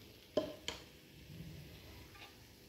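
Red chili powder hitting hot oil while making chili oil, with two sharp taps near the start and a soft, low sizzle and stir underneath that fades through the rest.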